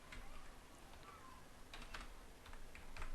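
Light, quick keystrokes on a computer keyboard are heard as a database name is typed, coming in irregular bursts of soft clicks close by against a quiet room hiss.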